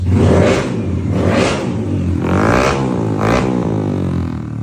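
A Yamaha NMAX scooter bored to 200cc revs hard, four loud rising and falling surges with a steady idle rumble between them, recorded close with no talking.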